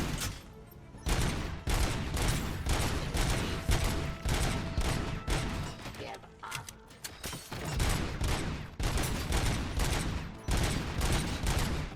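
Sustained heavy gunfire in the video game RoboCop: Rogue City, during a shootout at the Detroit Expo: dense rapid bursts of loud automatic shots with brief pauses, continuing for about twelve seconds.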